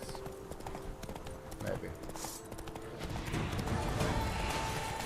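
Roach the horse trotting in The Witcher 3: Blood and Wine, with a steady clip-clop of hooves carrying on under game sound and people talking throughout.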